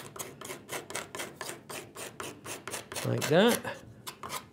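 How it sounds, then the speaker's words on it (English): A small hand scraper drawn over a wooden saw handle in quick repeated strokes, dry and close, followed by a brief voice near the end. "I've got a small scraper and this just cuts away the surface fuzziness left by the rasp"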